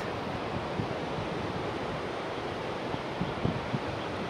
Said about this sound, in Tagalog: Dito kami ngayon sa tabing dagat